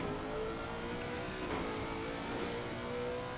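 A race car engine in a racing video game at the Hungaroring holds a steady, fairly faint droning pitch throughout, with no talk over it.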